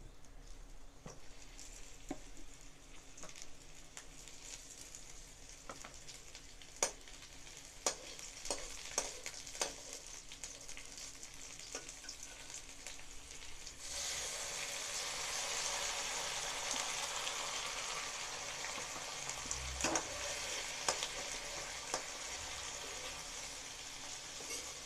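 Onion paste goes into hot oil in a pan and fries with a soft, steady sizzle that grows louder partway through, broken by a few light clinks, and no one speaks.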